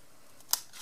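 One quick, close scissors snip stands out as a single crisp click against a quiet background.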